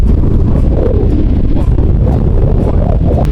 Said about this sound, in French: il pleut, il y a du vent